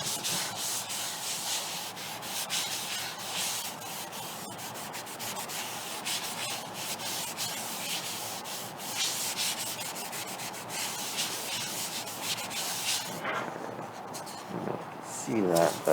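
A cotton swab rubbed over paper to blend a pencil sketch gives a soft, close scrubbing of quick repeated strokes that runs steadily and stops just before the end.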